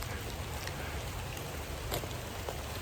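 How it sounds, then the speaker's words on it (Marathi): Steady rain falls in a Konkan village, a soft continuous hiss of drops with a few brighter patters, heard close and fairly quiet with no talking. "पाऊस आला."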